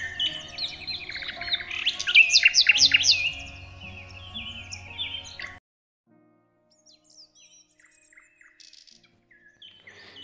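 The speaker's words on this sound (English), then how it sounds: "the beautiful birds whose songs were the very fabric of the forest." Forest birds sing in bright, rapid chirps and trills for about five seconds. The song then drops away to faint, scattered calls in near quiet.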